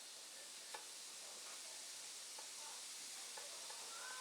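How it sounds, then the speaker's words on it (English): Faint, steady hiss of burger patties sizzling on an electric grill, with a few soft clicks and ticks scattered through. "Hear that sizzle."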